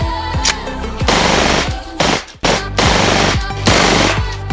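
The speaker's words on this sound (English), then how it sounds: "This is a gas blowback Beretta." CO2 gas blowback Beretta airsoft pistol fires a rapid series of sharp, loud, close reports, each with a snappy mechanical blowback crack, in quick bursts with a brief pause midway.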